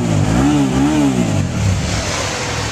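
Suzuki SV650S twin-cylinder motorcycle engine revs up close and loud, pitch swelling and falling as the throttle is blipped, then settling into a rough idle.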